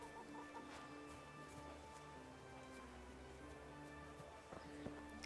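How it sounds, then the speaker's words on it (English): Chickens cluck softly in the medieval village of the video game Kingdom Come: Deliverance, a steady low background of game ambience with faint scattered clucks and no talk. "Little chickens hanging out here too."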